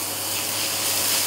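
Chopped ginger frying in hot oil in a home kitchen, giving a steady, close, bright sizzle with no pauses and no talking.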